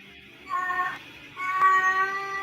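A hungry house cat meows twice in close succession, a near, fairly loud pair of drawn-out tonal cries over quiet room background.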